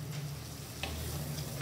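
Onions softening in a pan for Cajun roux peas, a quiet, even sizzle with a low steady hum beneath and a faint tick or two, heard close and alone.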